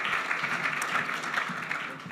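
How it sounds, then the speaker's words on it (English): An audience applauds a speaker at a chamber of commerce event, a dense moderate wash of clapping that holds steady and fades slightly at the end. "Round of applause for Julian Day."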